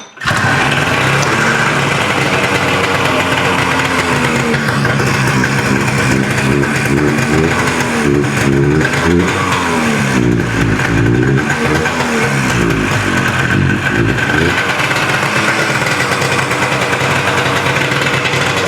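An old, durable secondhand snowmobile engine runs loud and close with a high idle and a leaking muffler, droning continuously while rising and falling revs warble through the middle.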